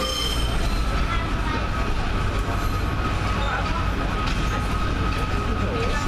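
Train departing Doncaster station, with steady rolling rumble and rail noise from inside the carriage, a faint wheel squeal running through, continuous and close throughout.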